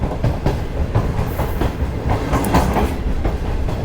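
The Shalimar Express rolls into Bahawalpur railway station, a loud, steady rumble of wheels with rhythmic clickety-clack from the carriages, heard from on board with no talk.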